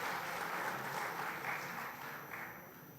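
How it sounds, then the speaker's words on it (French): An audience claps at the MRIC National Innovation Challenge 2021-2022 award ceremony in Mauritius, producing a sustained wash of applause that slowly fades toward the end. "Sous vos applaudissements, bien sûr, grand bravo à Monsieur Dany."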